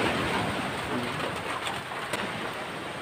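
Steady rain at a pier in the early morning, a broad continuous wash of falling water, loud and close throughout without pauses.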